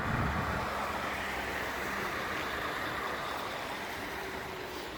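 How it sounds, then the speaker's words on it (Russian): Austrian cars driving past on a road, a broad continuous roar of traffic that is loudest at the start and then eases slightly, mixed with wind noise. "Австрийские машины."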